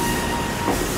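A Berlin M5 tram runs with a loud, continuous rumble and rattle of rail wheels. The sound is close and steady throughout the short stretch.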